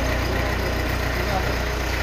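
A Komatsu PC60 backhoe's diesel engine runs again after repair. It settles into a steady, close, unbroken idling drone with a low rumble, and a voice may be faintly present.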